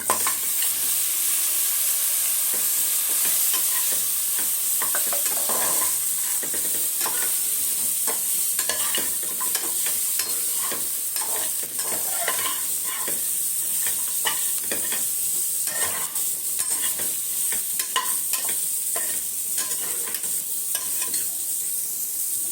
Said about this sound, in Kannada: ಸ್ವಲ್ಪ ಅರಿಶಿನ ಇದ್ದೀನಿ ತೊಳೆದು ಕ್ಲೀನ್ ಮಾಡಿ ಇಟ್ಕೊಂಡಿರೋ ಅಂಥ ಕಾಲನ್ನ ಹಾಕ್ತಾಯಿದ್ದೀನಿ